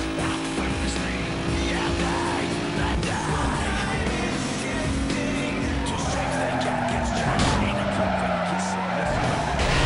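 A Toyota Supra SZ-R in Need for Speed: Most Wanted slides through a slippery corner, its tires squealing in a long, loud skid over a constant, droning engine tone, with some faint shouting-like noise in the mix.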